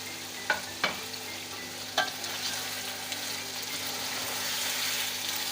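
Chicken and tomatoes fry in a pan with a steady sizzle, broken early by a few sharp clinks of stirring that then settle into a continuous hiss.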